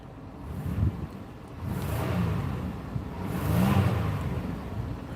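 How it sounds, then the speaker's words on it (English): An older car parked under a lamppost, its engine revved twice in rising-and-falling surges with a short idle between, heard up close outdoors with no one speaking. "Let's give her a few revs."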